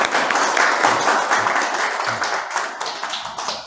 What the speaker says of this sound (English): let's give a huge round of applause for Shivaraj Prabhu.